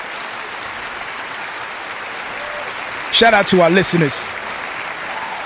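Canned applause, a fake hand-clap sound effect played on a radio show, runs as a steady, dense clatter through the whole stretch, with a voice briefly speaking over it near the end.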